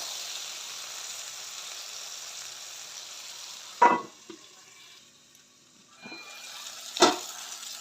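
Onions and coriander leaves softening in a pan give a steady, fairly quiet sizzle throughout, broken by a few sharp clatters of a spoon or utensil against the pan; no one speaks.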